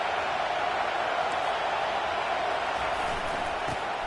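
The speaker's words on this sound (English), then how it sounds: "It is getting loud as this crowd tries to help its defense." A stadium crowd at a football game roars as it tries to help its defense, a dense, steady wall of crowd noise that holds constant throughout.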